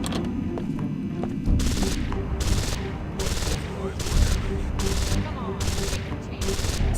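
Rapid gunfire crackles in the video game Deus Ex: Invisible War, a dense run of repeated shots in regular bursts over a constant rumbling game background.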